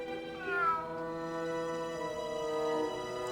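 A large racing cat in the video game Grim Fandango meows in a long, drawn-out wail, rising then falling in pitch, close and fairly loud over a low background hum.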